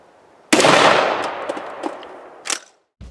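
A single loud gunshot fires a round made from VHS tape, its blast decaying over a second or two, followed by a few small clinks and a second sharp crack near the end.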